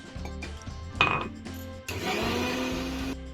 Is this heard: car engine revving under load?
no